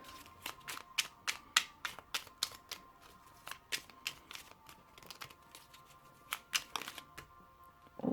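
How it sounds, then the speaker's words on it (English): Cards are riffled and shuffled in a rapid series of crisp flicking snaps, close and fairly quiet, with no talking. "they can be hard to shuffle"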